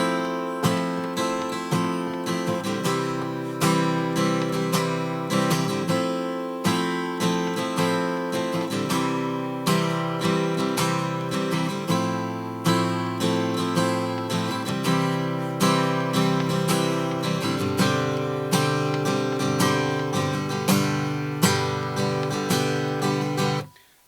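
Strummed acoustic guitar chords from a song ring out in a steady rhythm, shifting between a few chord shapes over and over, close and clear with no voices.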